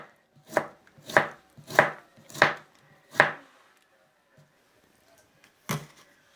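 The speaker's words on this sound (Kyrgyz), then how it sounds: "Сабизди картошкадан дагы бир аз майдараак кылып тураш керек." Potatoes being finely chopped with a knife on a board: five firm, evenly spaced chops in quick succession, a pause, then one final chop, close and clear with no talking.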